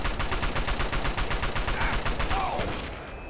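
Gunfire from a Fallout 3 battle in the Anchorage simulation, with sniper rifles among the weapons: a loud, dense volley of rapid, evenly spaced shots rattling for about three seconds before easing off slightly at the end, with no talking.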